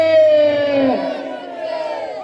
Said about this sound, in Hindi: सुन रहा हूं चारों तरफ से लंकापति रावण की जय